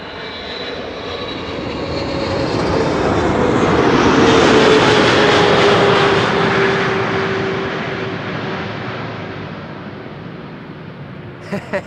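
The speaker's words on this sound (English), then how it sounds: "KLM flight 598 landing here." A KLM airliner lands at Amsterdam Schiphol Airport, its engine roar swelling steadily to a loud peak mid-pass and then fading slowly as it rolls away, with a faint droning whine running through the noise.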